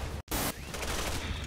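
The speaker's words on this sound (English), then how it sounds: "Stop shooting at us!" Gunfire in the video game Resident Evil 6, a dense burst of shots after a brief dropout, continuing as a steady loud clatter with no one talking.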